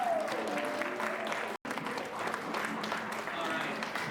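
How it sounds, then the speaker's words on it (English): A game jam audience at a presentation event gives a steady round of applause, dense clapping filling the room for several seconds with a brief gap midway, with some talk mixed in. "give all of you a round of applause."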